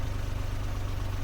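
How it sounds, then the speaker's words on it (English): A 1972 DE-10 type diesel locomotive idles nearby with a steady, heavy low throb and rapid regular pulsing, loud and continuous throughout the short stretch. "A diesel locomotive came into view. It is the DE-10 type diesel locomotive made in 1972."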